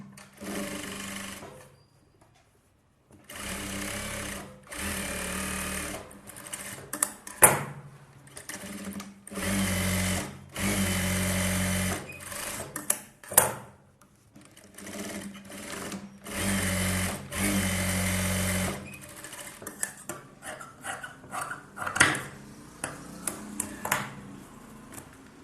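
A sewing machine stitches a blouse sleeve in repeated loud, close bursts of a few seconds each, separated by short pauses, with small clicks between runs.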